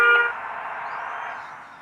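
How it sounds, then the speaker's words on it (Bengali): A short bus horn blast in the Bus Simulator Indonesia game sounds at the start, then gives way to a steady droning tone that holds and slowly fades. "হর্ন ইউজ করলাম"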